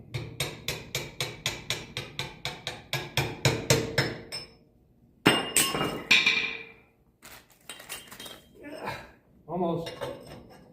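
A hammer drives out the bottom spindle bushing on a Ford 671 tractor, landing about fifteen quick, sharp metallic blows in a steady rhythm, then pausing before a few heavier, irregular strikes.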